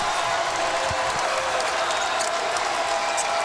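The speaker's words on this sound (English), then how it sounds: "Here comes the West Virginia crowd again." A West Virginia basketball crowd in an arena roars loudly and steadily during a college game against Xavier, a dense wash of cheering and noise with no single voice standing out.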